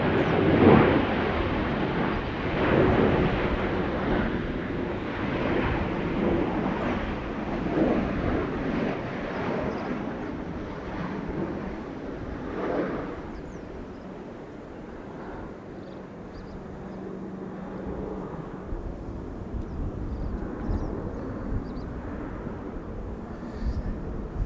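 An all-white airliner, likely a 737-800 in from Palma de Mallorca, passes near Schiphol Airport, a steady broadband jet roar that stays moderately loud across the whole stretch, with wind rumble mixed in.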